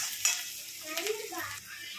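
Sliced onion sautéing in a pan for prawn thokku, a steady soft sizzle with light stirring scrapes close by, no one talking.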